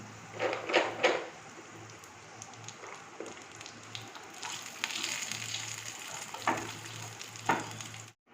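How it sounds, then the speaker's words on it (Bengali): Cashews and raisins frying in hot oil in a pan, a soft continuous sizzle with a few clinks and stirring scrapes from a spoon, fairly quiet and with no talking. "এবার একটু কাজু আর কিশমিশ দিয়ে দিলাম।"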